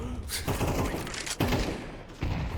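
Gunfire in Counter-Strike 2 on the Nuke map: rapid bursts of shots with a heavy volley in the middle, moderately loud over a busy game backdrop.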